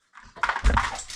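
A dog gives a short, close whimpering whine that rises and rolls into a brief muffled grumble, heard alone with no talking.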